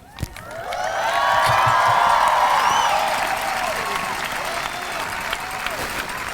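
A large audience at the Bellevue High School class of 2019 graduation breaks into sustained applause and cheering, rising quickly, staying full for several seconds, then easing slightly while the crowd keeps clapping.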